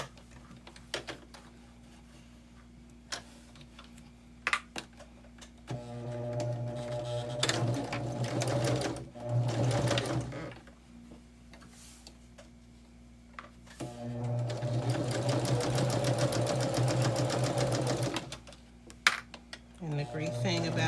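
A sewing machine stitches a quarter-inch quilt seam in two bursts of rapid, even motor chatter, separated by quieter pauses with soft handling clicks.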